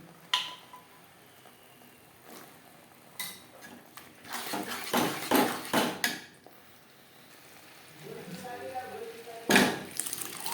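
Boiled peas tipped with their cooking water into a pan of spiced masala for street-style ghugni, a burst of clattering, splashing and scraping in the middle with quieter kitchen clinks before and after.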